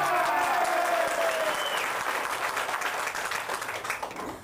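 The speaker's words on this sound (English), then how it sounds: "Show by a round of applause if you don't care if the newspaper's torn up." Audience at a magic show applauding, a steady wash of many hands clapping with a faint whistle early on, gradually thinning and tailing off toward the end.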